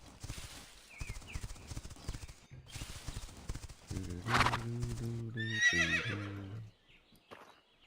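Horse whinnies and clip-clopping hooves in The Quinfall, footsteps first, then a loud harmonic neigh near the middle, heard up close with no talking.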